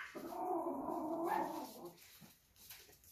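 Dogs in a home are heard indoors, giving a low, strained vocal burst or whine for about two seconds, fairly close, and then the sound trails off into quiet room noise.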